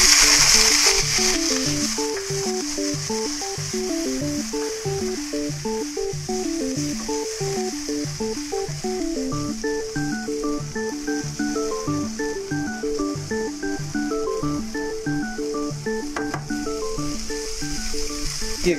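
Cherry tomatoes and shallots sizzle in oil in a pan, a steady hissing fry running underneath prominent background music with a repeating melody, with no talking.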